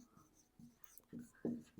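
Marker or chalk strokes on a classroom board during a math lesson on triangles: a few short, scratchy bursts that come in uneven groups and grow louder toward the end, with faint voice traces underneath.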